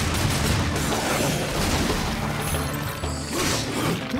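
Dense bursts of gunfire and booming blasts in the video game Darksiders II, loud and continuous, layered with rumbling crashes and mechanical clatter throughout.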